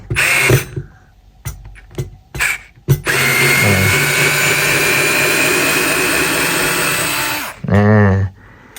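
A Bosch Go Gen3 electric screwdriver whines loudly up close as it reverses a screw out, after several short bursts and clicks, then runs in one sustained buzz with a brief final burst at the end.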